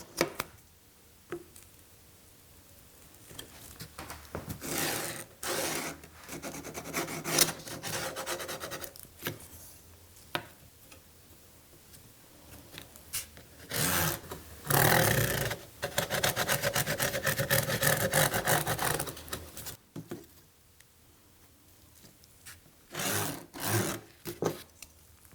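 A marker or ballpoint pen traces over a drawing on cardboard for the front of a cardboard drawer, making scratchy rubbing strokes that come in irregular bursts separated by short pauses, close and moderately loud.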